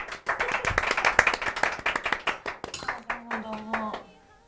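A studio audience on a Japanese talk show claps to welcome a guest. The close, lively applause is made of many overlapping hand claps, and it thins out as a voice briefly sounds near the end.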